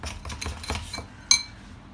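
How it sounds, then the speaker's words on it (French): Sugar and egg yolk being whisked in a bowl, with light rhythmic scraping strokes followed by a single sharp clink of the utensil against the bowl. "Et je mélange."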